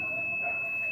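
A digital multimeter in continuity/diode mode beeps while testing a Philco microwave oven's parts, a single steady high-pitched tone lasting the whole short moment, loud and close.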